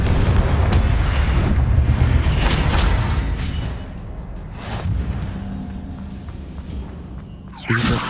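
Repeated Confringo fire-spell blasts in the Hogwarts Legacy video game: loud booming explosions with rumbling low end, several bursts in the first seconds, then fading, and a sharp fresh impact near the end.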